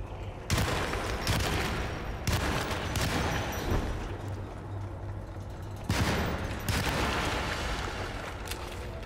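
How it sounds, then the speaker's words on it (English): A Tommy gun fires in Alone in the Dark, loud rattling bursts of rapid shots starting and stopping in several long volleys, with dense crackling noise between them. "Wow, the Tommy gun is good!"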